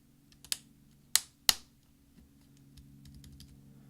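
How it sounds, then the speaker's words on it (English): A less-than key is pressed back onto the keyboard of a 13-inch early-2009 MacBook Pro, giving three sharp, close plastic clicks spaced unevenly, followed by faint handling noise. "we're going to push down with our finger until we hear some clicks"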